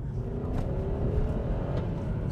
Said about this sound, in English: properly fast, this 4-litre V8